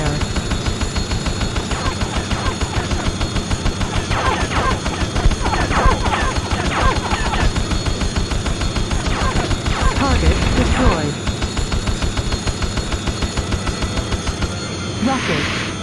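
Rapid gunfire in a PlayStation demo combat game, a fast rhythmic stream of shots rattling steadily for most of the stretch, loud and close, with game voice announcements and explosions mixed in.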